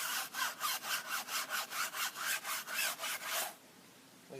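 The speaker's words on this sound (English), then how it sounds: "get our tire scrubber," A tire scrubber brush worked back and forth over a car tire, about a dozen rhythmic rasping strokes, close and steady, then it stops abruptly.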